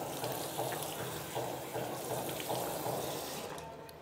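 Water running steadily from a tap pipe, a continuous broadband rush of flow that holds fairly even, then eases slightly toward the end, with no voices.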